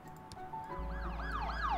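An ambulance siren arriving in the hospital management game Project Hospital, with its Traumatology DLC: a wailing, repeatedly sweeping siren that starts faintly, then steadies into a rising and falling cycle over a low engine hum.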